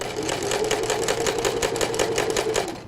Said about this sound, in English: now we're just going to stitch all the way down the zipper.